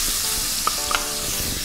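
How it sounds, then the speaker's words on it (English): Sliced onions hit hot oil and spices in a pan for layered chicken biryani, a loud steady sizzle with a few light stirring clicks. "I'm ready to add my sliced onions."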